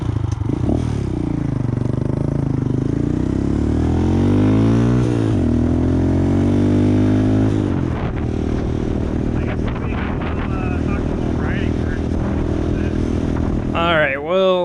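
Honda Grom motorcycles ride along with rising and falling engine revs and gear changes, heard close with heavy wind buffeting on the microphone and a rider talking over the noise.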